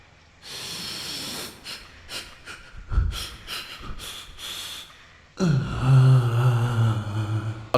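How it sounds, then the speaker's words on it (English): A man sniffs his underwear in a sniff test, with several sharp nasal inhales and snorts in quick succession, then a longer, louder breathy huff toward the end. "I'm gonna do something called the sniff test."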